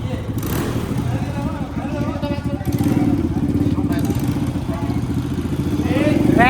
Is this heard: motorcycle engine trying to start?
yes